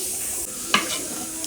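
Fish shallow-frying in a pan in a home kitchen with okra nearby, a steady close hiss of sizzling oil with a brief stirring clatter partway through, no voices.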